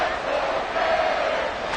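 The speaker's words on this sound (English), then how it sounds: "This crowd doing all they can." Football stadium crowd roaring during a late-game goal-line stand, a loud, dense and steady wall of cheering and shouting with no break across the short stretch.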